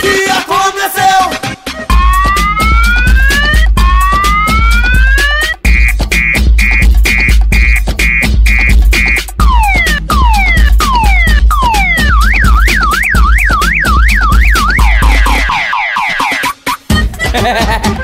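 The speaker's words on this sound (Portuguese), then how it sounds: "O alarme disparou, logo o dono apareceu." A funk dance track built on siren-like alarm tones, rising sweeps and rapid warbling wails over a heavy, pounding bass beat, loud and continuous with no voices.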